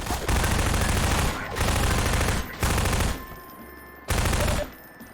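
Rapid automatic gunfire in the Half-Life video game, loud, close bursts of sustained fire broken by short pauses, four volleys in quick succession.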